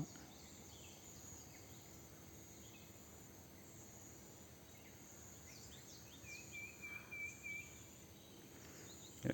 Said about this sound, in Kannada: ಈ ಸೌಂಡ್ನ ಅಬ್ಸರ್ವ್ ಮಾಡಿ ನೇಚರ್ ಸೌಂಡ್ ಹೆಂಗಿದೆ ಪಕ್ಷಿಗಳದ್ದು ಅಂತ